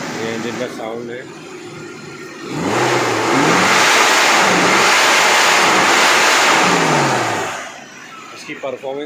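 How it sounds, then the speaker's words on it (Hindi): A restored Maruti Gypsy, fitted with an aftermarket air filter and iridium spark plugs, revs up loud and close, holding a steady roar for several seconds before settling back. Someone talks over the idle before and after. "ये इंजन का साउंड है।"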